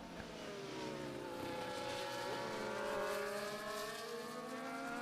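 Race cars flying around corners, several engines whining and shifting pitch as they pass and rise, fairly distant and steady throughout.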